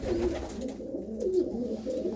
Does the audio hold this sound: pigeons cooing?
yes